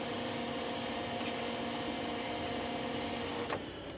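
A Fuji Xerox DocuPrint M115 laser printer whirs steadily as it restarts after a toner reset, with a continuous mechanical hum and a brief click near the end.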